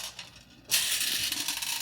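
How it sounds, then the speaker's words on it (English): A dense, rapid rattling patter of marbles jostling in boiling water inside a water distiller starts abruptly and continues steadily, sounding like rain on a surface. "the water boils, and bounces the marbles around"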